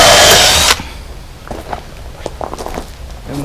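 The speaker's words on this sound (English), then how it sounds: "Run some screws in here." A power drill drives screws into oak floorboards inside a DIY trailer, one loud whirring burst that stops abruptly, followed by quieter knocks and shuffling movement.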